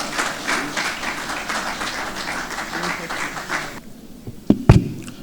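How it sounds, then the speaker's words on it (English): Applause from the audience at a plenary opening ceremony as the chairman of Nigeria's National Population Commission is welcomed to the podium, moderate clapping that cuts off abruptly, followed by a couple of sharp knocks. "A round of applause as we welcome him to the podium."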